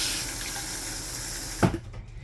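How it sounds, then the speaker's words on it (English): A toilet does a half flush to fill the bowl, a steady rush of running water that stops abruptly with a soft clunk, then faint residual trickling. "you do a half a flush to fill the bowl to your desired temperature of water"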